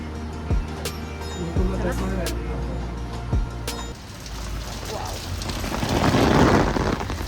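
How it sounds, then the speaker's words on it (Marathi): Steady rain pours down close by, forming a dense hiss with a few sharp knocks early on. "खूप पाऊस आहे"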